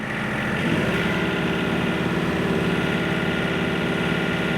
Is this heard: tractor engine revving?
yes